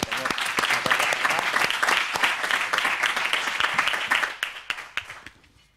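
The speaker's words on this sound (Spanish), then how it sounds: "vamos a dar un aplauso" Applause breaks out among those attending a municipal council plenary session after a new councillor's oath of office, dense steady clapping that holds for several seconds, then thins into scattered claps and fades out.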